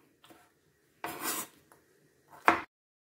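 A knife cuts veal into thin strips on a board for a tagine, in three separate short bursts of scraping and slicing. The strokes are close and fairly quiet, and no one speaks.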